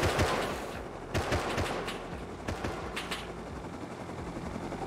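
Close gunfire in the video game Rust, loud sharp shots in rapid irregular bursts over a noisy rumbling background, with a few separate cracks spaced across the stretch.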